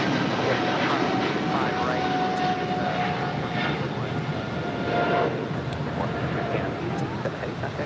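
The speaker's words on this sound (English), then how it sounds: "This is LATAM Airlines, operated by LATAM Brazil, 8087, taking off to Sao Paulo, 777-300ER." A LATAM Airlines Boeing 777-300ER, operated by LATAM Brazil, takes off from LAX, its engines producing a steady broad roar that fills the whole stretch at a moderate distance.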